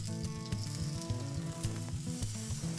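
Burgers sizzle steadily in a pan with a Cabernet reduction sauce, a close, continuous frying crackle with a faint background beat and no talk.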